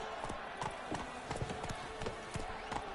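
Roach, the horse in The Witcher III video game, clip-clops at a steady walking rhythm of hoofbeats. The hooves sound fairly faint and are set against a low ambient background.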